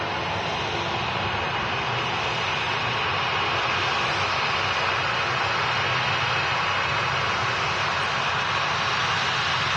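Heavy jet airliners departing Manchester Airport, a steady, loud, continuous engine roar that fills the whole stretch without a break and stays broad and even.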